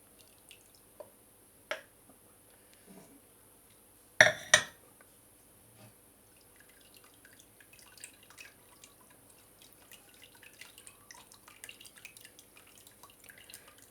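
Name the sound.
plum juice dripping through a sieve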